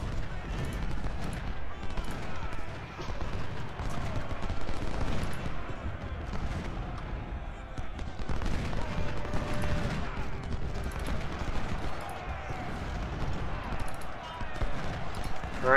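Musket and rifle volleys crackle in the American Civil War game Ultimate General: Civil War, dense ragged fire that rolls on without a break under a busy battlefield din.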